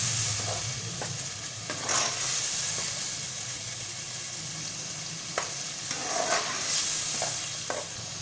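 Frozen peas and tomatoes sizzle and hiss in a pan for aloo matar gosht, a quiet steady frying with occasional stirring clatters and spatula scrapes, close by and without speech.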